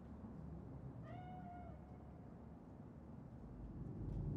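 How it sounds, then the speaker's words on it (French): A single drawn-out cat meow rises clearly over a low, steady ambient hum in the video game Cyberpunk 2077, with no speech during the call. "C'est juste un chat."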